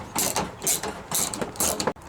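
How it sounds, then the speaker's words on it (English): A 12mm spline gear wrench ratchets on the spare tire mount of a Lexus GX460, making repeated bursts of rapid metallic clicking in an uneven rhythm, close and clear with no talking. "I'm going to take a 12mm spline gear wrench"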